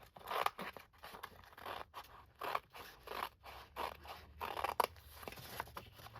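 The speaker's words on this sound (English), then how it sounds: "So on this one, I'm just going to cut this straight up" Scissors snip through paper in a steady run of close, crisp cuts, each stroke a short rasping crunch repeating roughly every half second.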